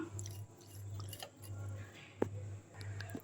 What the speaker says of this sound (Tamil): இப்போது இந்த சங்குப்பூவை கலரை அதில் ஊற்றிடலாம் நல்லா கலக்கி விட்டுடலாம்